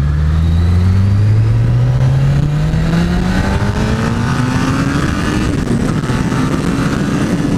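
A 2014 Honda CBR 1000 RR Fireblade motorcycle accelerates hard on a ride, its engine note climbing steadily through the gear loud and close with heavy wind roar, no talk.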